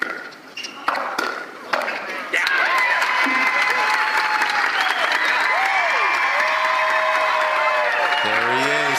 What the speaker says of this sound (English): Tyson McGuffin getting the crowd going